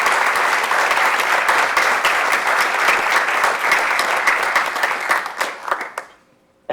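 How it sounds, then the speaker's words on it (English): Sustained applause from the audience at a school board meeting, a dense steady wash of many hands clapping that continues for about six seconds before tapering off abruptly. "let's give Maria Libby just a round of applause for the decades of leadership"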